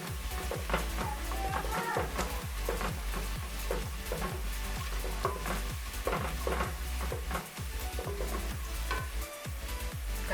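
Garlic and onions fry in a pan for beef pilau, a constant sizzle broken by repeated rhythmic scrapes and knocks of stirring.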